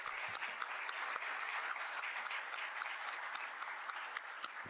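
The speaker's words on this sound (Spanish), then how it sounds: "Con este gran aplauso cerramos esta mesa" A panel-discussion audience claps at length as the session closes, a dense, even roar of many hands that stays steady throughout at a moderate distance, with no voices over it.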